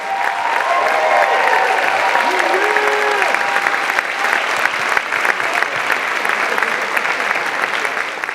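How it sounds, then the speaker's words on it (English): A crowd at an awards presentation gives loud, continuous applause with dense clapping, some whoops and catcalls mixed in, sustained evenly for several seconds. "give them another round of applause"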